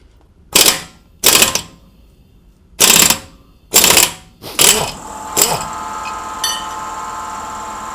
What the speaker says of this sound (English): I've got a high torque impact wrench that I'm going to see if this works